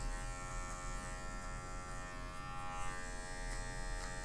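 An electric hair clipper hums in a constant, even buzz while cutting a natural fade at a barber's chair, steady and close with no break or voices.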